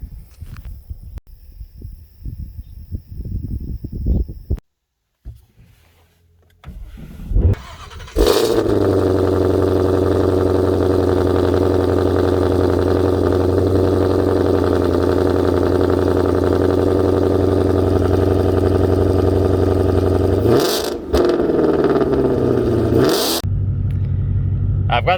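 A 2020 Ford Shelby GT500 with a ported supercharger and new pulley cranks and fires up, then settles into a loud, steady, rumbling idle with brief revs near the end, recorded up close.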